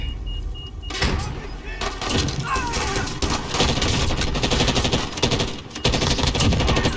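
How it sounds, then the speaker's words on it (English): Rapid gunfire in the video game Call of Duty Warzone, dense bursts of shots with impacts, loud and continuous through the passage over game noise. "I broke him with a pistol."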